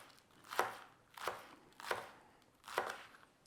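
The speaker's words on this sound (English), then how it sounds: "I'm gonna chop off some of the spring onions," Spring onion green tops chopped with a knife on a board for pad thai, four evenly spaced, crisp thuds, close and isolated.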